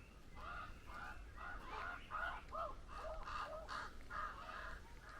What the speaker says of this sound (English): on top of that tower is our friend the crow from earlier